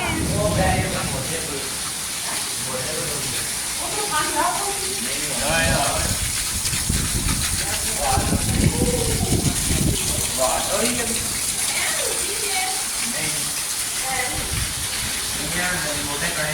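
Heavy rain pours in a dense, steady hiss and gush close by, with voices talking over it throughout.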